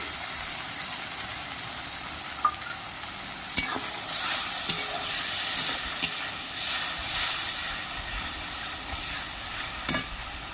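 A soaked paste of cumin powder and dried chilli powder sizzles loudly in a pan of oil for a crab curry, giving a continuous close hiss and steam with a few light scrapes and taps from stirring, and no voices.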